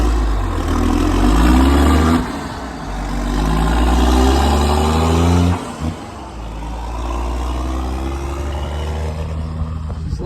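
A semi-truck on a corn farm pulls away, its engine loud and close, revving through several gear changes, then its drone fades as it drives off.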